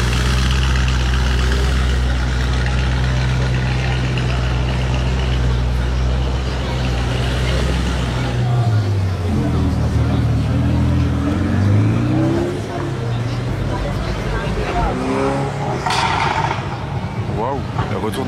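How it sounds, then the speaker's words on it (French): A Ferrari 488 Pista, a French-plated Spider, fires loud exhaust pops and revs nearby during Monaco Grand Prix night, a heavy engine drone giving way to sharp rising and falling revs, with people talking around it. "retour d'échappement de la pista là"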